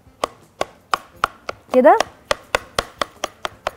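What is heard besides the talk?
chopping roasted eggplant with a knife for baba ghanoush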